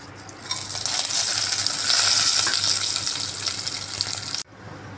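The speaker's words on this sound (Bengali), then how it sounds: "এখানে আমি গোটা দারচিনি 1/2 ইঞ্চি টুকরো করে নিয়েছি, এলাচি, লবঙ্গ, জিরা আর তেজপাতা দিয়ে দিচ্ছি।" Whole spices tempering in hot oil for a chicken and potato curry: half-inch cinnamon pieces, cardamom, cloves, cumin and bay leaf. A loud, close, hissing sizzle swells after a quieter start and breaks off abruptly near the end.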